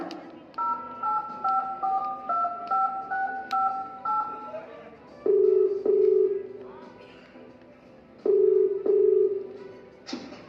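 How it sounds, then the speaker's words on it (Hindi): A phone number is dialed on a telephone: a steady run of short, evenly spaced keypad tones plays, then several loud paired ringback beeps sound with pauses between them, all fairly close and with no talking. "इस नंबर पर डायल करती हूँ मैं।"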